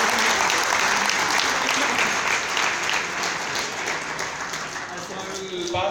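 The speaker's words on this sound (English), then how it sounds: "So he is expecting claps." Audience at a corporate sales meet and product launch applauding, a dense sustained round of clapping that tapers slightly toward the end.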